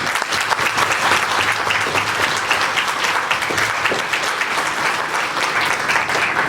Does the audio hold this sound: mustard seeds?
no